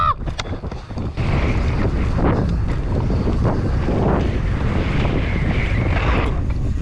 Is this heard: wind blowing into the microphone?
yes